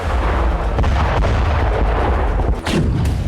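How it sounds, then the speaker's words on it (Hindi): Russian artillery in Donetsk fires in a dense, continuous barrage, heavy low booms rolling loud and close for the whole stretch, with a sharper crack near the end and no voices. "डोनेस्क में ही रूसी आर्टिलरी ने यूक्रेन की मोर्टार यूनिट और 3 सैन्य वाहनों को तबाह कर दिया।"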